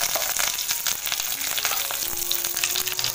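Mustard seeds hit hot oil in a kadhai, a bright, crackling sizzle that stays loud and continuous, with a few faint pops and no talking.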